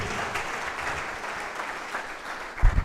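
A church congregation breaks into applause during a sermon, moderately distant clapping that holds steady for a few seconds, with a louder thump near the end.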